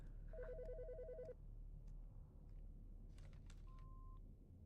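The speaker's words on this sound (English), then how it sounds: "The fucking phone." An electronic phone ringtone chirps in a quick warbling burst inside the Autopsy Simulator video game, followed a few seconds later by a short single beep, all over a steady low background hum.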